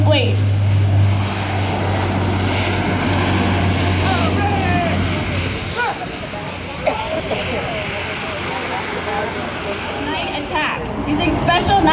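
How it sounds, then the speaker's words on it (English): KC-130 military transport aircraft departing at the 2006 MCAS Miramar airshow, its propeller engines droning loud and steady throughout, with an announcer talking over the noise. "the KC-130 continues to be the workhorse of the fleet."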